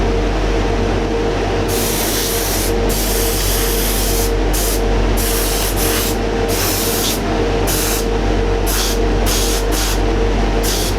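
An airbrush hisses steadily while spraying primer onto a Revell 1/48 Tornado model kit, with a constant compressor hum beneath and the hiss briefly interrupted several times as the trigger is released and pressed again.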